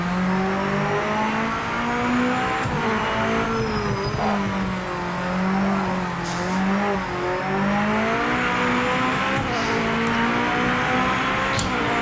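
Race car engine in the Project Motor Racing video game, revving and shifting through gears with loud sustained drone and tire noise throughout, no talking.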